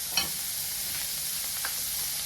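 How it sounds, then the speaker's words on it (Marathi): Onion and green chilli frying in oil give a steady, fairly quiet sizzle with a couple of faint scraping stirs, no voices. "कांदा तेलात चांगला भाजी द्यायचा अगोदर कांद्यासोबतच असून हिरवी मिरची पण टाकून घेते"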